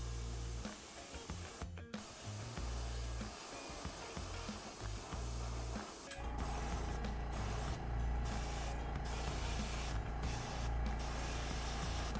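An airbrush air hose sprays steadily while miniature models are being painted, a continuous close hiss broken by a few brief pauses and running loud throughout with no talking.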